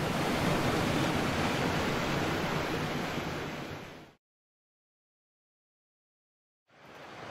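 A small stream, usually dry, rushes loudly after 50 mm of overnight rain, a dense steady roar that cuts out abruptly and then returns a few seconds later.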